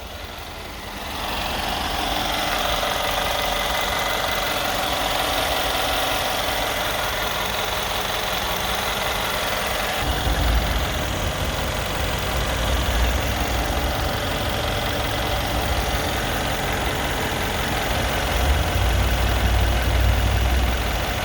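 A hot 2013 Mercedes-Benz SL550 engine idles steadily before an engine flush, giving a continuous close drone. About halfway through, the low rumble deepens and grows heavier, with no voices over it.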